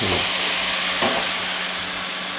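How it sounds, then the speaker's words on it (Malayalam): Ground coconut paste for a drumstick-leaf curry poured into a hot pan over mustard seeds, giving a loud steady sizzling hiss that stays broad and continuous, with a brief surge near the middle. "നമ്മുടെ അരപ്പ് നേരെ ഇതിനകത്തിലേക്ക് ഒഴിച്ചു"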